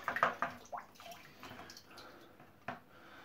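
Water is squeezed out of an Oase external aquarium filter sponge, giving quiet, close splashes and drips in short bursts that trail off into trickles.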